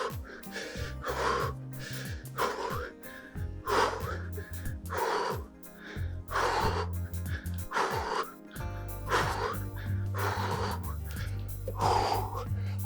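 Heavy, rhythmic breathing from someone doing squat thrusts in an advanced weight-management exercise class, with a dozen or so forceful puffs and gasps at a steady pace over low background music.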